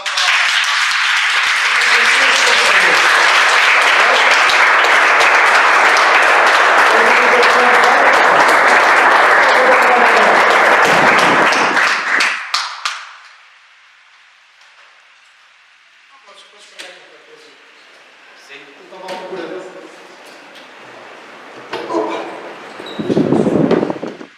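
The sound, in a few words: church congregation applause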